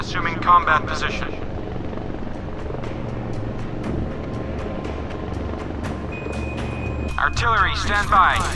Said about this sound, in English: Helicopter taking off,